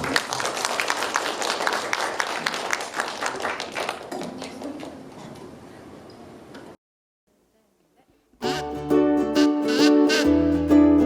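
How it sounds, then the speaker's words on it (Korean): An audience applauds to welcome a ukulele band on stage, a dense burst of clapping that thins and fades over several seconds, then after a short silence bright ukulele music begins. "뜨거운 박수 맞이해주시죠"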